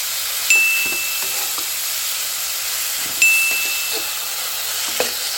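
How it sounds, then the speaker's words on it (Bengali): Cut potatoes stirred into spice paste for a Bengali potato and khoilsha fish curry, frying with a steady close sizzle broken by a few scraping stir strokes, with no talk. "এখন নেড়ে চেড়ে আলুগুলো মশলার সাথে আমাদের ভালোভাবে মিশিয়ে নিতে হবে।"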